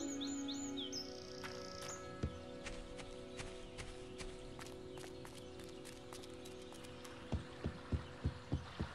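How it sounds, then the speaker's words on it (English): Sparrows around the guild in the video game Fable Anniversary: faint high chirps early on, over steady ambient game music, followed by a run of soft regular thumps near the end. "Those damn sparrows are making a right mess of the guild."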